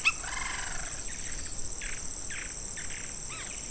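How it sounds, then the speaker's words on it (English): A lineated woodpecker calling in cerrado scrubland with bushes and isolated trees at Barba Azul Reserve: a series of short, evenly spaced chirping notes, moderately distant, over a steady insect hum. "Here we have the lineated woodpecker."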